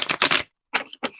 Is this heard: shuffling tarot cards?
yes